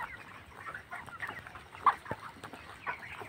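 Broiler chickens in a poultry farm at night make soft, scattered clucks and murmurs, a faint restless flock with occasional sharper calls and no talk.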